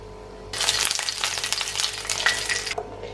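Oil poured into a pan for an oats snack, bursting into a loud, close frying sizzle that holds steady for about two seconds and then stops abruptly.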